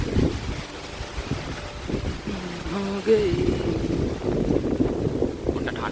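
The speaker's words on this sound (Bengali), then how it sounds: "এত ঘোরালো হাওয়া লাগছে" Strong gusting wind ahead of Cyclone Remal buffets the microphone in a continuous broadband roar that swells and dips, with a brief tonal sound partway through and faint background noise.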